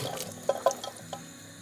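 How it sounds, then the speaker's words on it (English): Water poured into a soup pot holding veggie stock, a running liquid splash with a few brief bright plops and gurgles over a soft steady stream, close by and alone. "I've added my veggie stock pot and some water"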